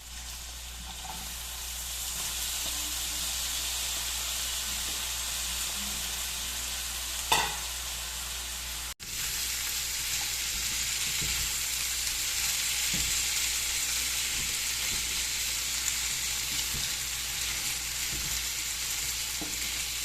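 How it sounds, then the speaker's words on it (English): Potatoes frying in red chorizo oil with garlic in a pan, a continuous crackling sizzle broken by a few stirring clatters and a brief break midway, with no talking. "and then I'm going to add in my potatoes."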